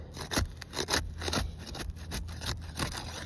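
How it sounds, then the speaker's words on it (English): A 5-in-1 tool pries up sealed CertainTeed Landmark AR Pro roof shingles, making a steady run of close, gritty scraping strokes about every half second, with no voices. "So first we're going to unseal with this 5-in-1 tool."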